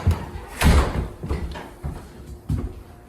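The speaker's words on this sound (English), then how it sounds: "You hear that door, right? Yeah. Can we close that?" A door closing inside a reportedly haunted house, heard as a close thud followed by a few lighter knocks and rattles.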